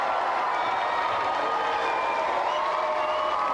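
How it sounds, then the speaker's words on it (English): A studio audience on the game show Gamesmaster applauds the contestants with a steady, dense wash of clapping and a few faint cheers, with no talk over it. "let's have a big round of applause for all of our contestants"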